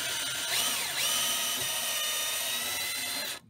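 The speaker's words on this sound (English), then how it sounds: "We have to drill holes in the floor of the van." A power drill bores a small pilot hole through the floor of a van, giving a continuous high whine for about three seconds. The pitch dips briefly early on as the bit bites, and the sound stops abruptly.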